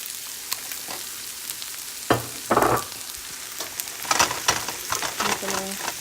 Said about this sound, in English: I'm gonna stir this up for a few minutes just to cook the rice or heat up the rice